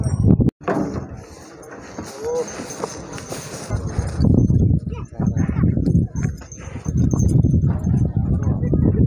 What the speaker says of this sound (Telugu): ఇంకా ఎద్దులు రావట్లేదు అంటే వస్తున్నాయండి.